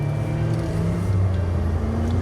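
A Suzuki Spacia kei car drives on the road, giving a steady engine drone and low rumble heard from inside the cabin, loud and continuous with no break.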